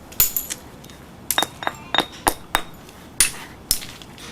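Hammer stone striking a stone core in glancing blows while knapping stone tools: about a dozen sharp, bright clinking knocks in uneven bursts, close and fairly loud, with no talking.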